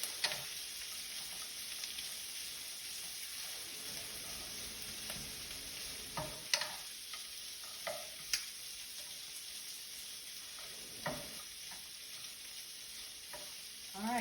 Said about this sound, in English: Give it a quick stir in.